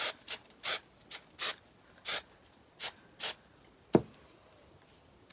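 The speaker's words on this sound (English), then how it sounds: "I'm going to spray it." An aerosol spray can misting a primitive-style crow bowl filler gives short, sharp hissing bursts in an uneven rhythm, about nine puffs close up, with a single knock near the end.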